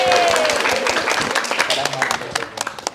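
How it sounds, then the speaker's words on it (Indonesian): Classmates in a classroom give a short burst of applause, dense clapping at first and then thinning into scattered claps over about three seconds. "tepuk tangan dulu Pak Taufik."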